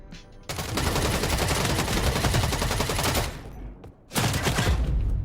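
Sustained automatic gunfire from the game EVE Vanguard roars for close to three seconds, dips briefly into a quieter lull, then bursts back in loud and continuous.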